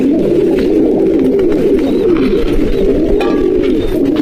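Pigeons kept thirsty since morning coo continuously in a loft, a dense layered murmur of nearby low throaty calls with no pauses.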